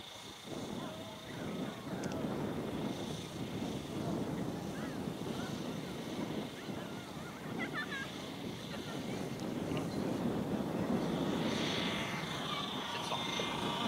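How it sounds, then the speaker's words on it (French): A model helicopter's small engine sputters to life and keeps running steadily at a model aircraft meet, a buzzing drone mixed with wind noise and faint voices outdoors. "Philippe va nous démarrer le moteur de son hélicoptère"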